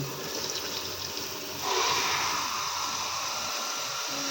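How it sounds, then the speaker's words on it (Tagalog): Water pours steadily into a pot, a continuous splashing rush that grows a bit louder partway through, with no talking. "Saka natin lagyan ng tubig na yan."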